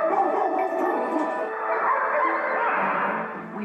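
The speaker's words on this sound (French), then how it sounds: "Du coup, les autres chiens s'énervent." Several agitated dogs bark, yip and whine together in a continuous, excited chorus, fairly close.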